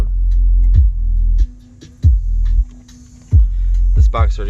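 Loud bass thumps from a blown and repaired Skar subwoofer in an efficient enclosure played at home, several heavy pulses landing roughly every second over a steady low hum.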